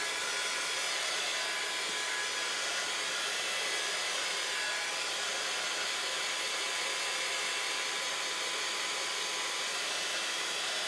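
Heat dryer blowing steadily up close to dry the back of a handmade easel craft card, a continuous even hiss with a faint whine, alone with no talk.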